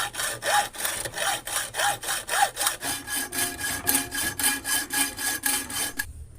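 Repeated back-and-forth hand sawing through a wooden plank being cut to shape for a homemade fish hunting gun, steady rhythmic strokes close up and loud, ending abruptly.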